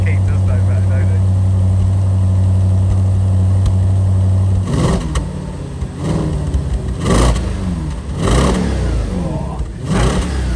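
An Audi RS5 V8 fitted with a Scorpion exhaust hums at a steady low idle, then rises into several loud, close blips and revs while people talk nearby.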